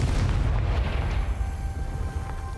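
A Confringo fire spell from Hogwarts Legacy detonates as a loud, booming blast, its low rumble holding steady across the whole moment.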